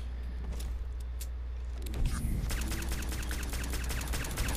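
Companion Nick fires his gun in Fallout 4, a rapid run of sharp shots starting about halfway through, fairly loud over a steady low game rumble with no talking.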